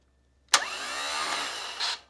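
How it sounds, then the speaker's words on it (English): A car engine cranked by its starter motor and catching, a sudden loud whirring burst that holds steady for about a second and a half, then surges briefly before cutting off, close up with no talking. "So when the motor quickly starts, it's probably around 100."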